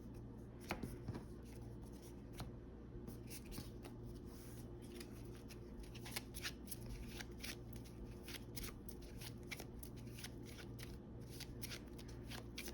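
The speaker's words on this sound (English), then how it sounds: "So we'll shuffle this" Marvel Champions game cards are riffled and shuffled by hand, a continuous close, quiet rustling and flicking with soft repeated snaps over a low steady background hum.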